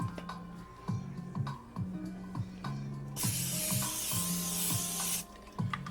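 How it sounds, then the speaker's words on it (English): Cooking oil sprayed from a can onto a grilled cheese sandwich in a pan, one loud two-second hiss midway, with clicking and ticking sounds throughout. "I just sprayed a little oil on the top."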